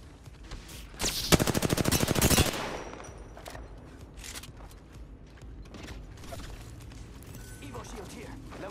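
A sustained, loud burst of rapid automatic gunfire in an Apex Legends ranked match, followed by scattered sharper shots and mechanical clatter under quieter game ambience.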